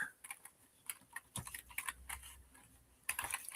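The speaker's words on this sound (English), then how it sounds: "I'm just typing it the way they have it." Typing on a computer keyboard in short bursts of clicky keystrokes, close and moderately quiet, with brief pauses between runs of keys.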